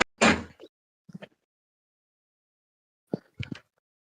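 A door is knocked on in a home, with a loud first hit, a few muffled raps about a second later, and another quick cluster of knocks near the end, separated by silence.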